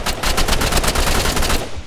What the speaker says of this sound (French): J'ai envoyé toutes les balles